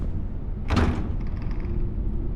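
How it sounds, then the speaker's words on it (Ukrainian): A door in the DEADCAM horror video game shuts with one sharp thump, followed by a brief faint rattle and low ambient hum. "Хто там мені двері закриває?"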